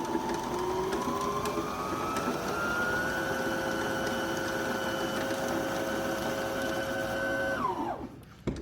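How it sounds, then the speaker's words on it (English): A sewing machine spinning at high speed to wind a bobbin, a steady whirring hum with rising motor tones that holds for several seconds, then winds down abruptly and stops near the end. "You can press your foot rest down, the foot pedal down a lot, and get it to really spin very fast"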